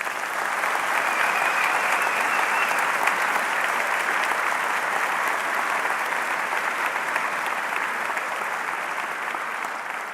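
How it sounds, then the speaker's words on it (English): An audience at a university honors convocation applauds steadily, a dense, even wash of clapping that holds strong for about ten seconds. "Let's give him a round of applause."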